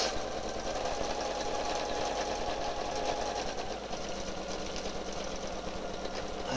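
A sewing machine stitches steadily while free-motion quilting a border with ruler work, its fast even needle rhythm running close and continuous throughout.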